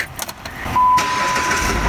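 A 2012 Jeep Patriot engine starts after a throttle body replacement: a few light clicks and rattles, then the engine catches and settles into a loud, close, steady run.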